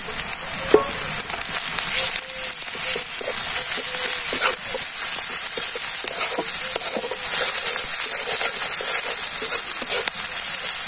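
Spice pastes of chopped green chili, ginger, garlic and onion fry in hot oil in a village kitchen, a continuous close sizzle with scattered stirring scrapes and crackles throughout.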